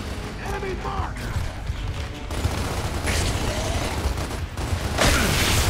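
Scattered gunfire and clanking combat noise from Gears of War, with irregular bursts and a sharper crack near the end, set among ongoing game sound and voices.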